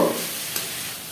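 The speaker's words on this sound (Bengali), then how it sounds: "সবজিগুলো আবারও খুব ভালো করে নাড়ি চাড়ি" Vegetables being stirred in a hot pan with mashed leftover roti mixed in, a soft scraping stir over steady sizzling frying, close and moderate in level, with no voices.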